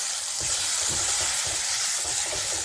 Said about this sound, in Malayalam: നന്നായിട്ട് ഇതിൻ്റെ പച്ചമണം മാറുന്നത് വരെ ഒന്ന് വഴറ്റിയെടുക്കണം